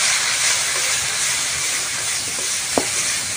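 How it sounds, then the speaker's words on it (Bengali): Tadka masala and turmeric powder fry in a pan while being stirred, giving a loud, steady broadband hiss of sizzling with one brief scrape near the end, close up and without talk. "দিয়ে ভালো করে মশলাটা নেড়ে নেব।"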